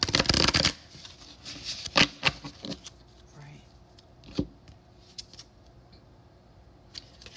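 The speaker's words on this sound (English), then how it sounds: "we'll go ahead and do one more shuffle" Tarot cards being shuffled by hand, with a burst of riffling at the start followed by scattered soft flicks and taps, close and clear, while a person talks quietly at times.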